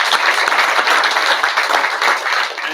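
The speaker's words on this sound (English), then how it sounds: "a big round of applause for them" Audience at a school board meeting clapping, a loud, continuous burst of applause from many hands that thins slightly toward the end.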